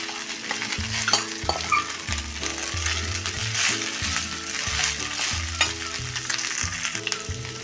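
Cooked rice is tipped into cooked dal in a pan and stirred, giving a gentle sizzle with repeated rhythmic scraping and knocking of the spoon against the pan, close up.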